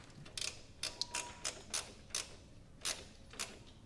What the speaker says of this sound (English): Let's get our ratcheting wrench and tighten that down